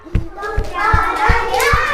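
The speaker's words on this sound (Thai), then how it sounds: "ปรบมือสี่ครั้ง" Young children in a kindergarten classroom lesson clap their hands together on a teacher's count: about five sharp, evenly spaced claps, close and clear, over a soft bed of children's voices.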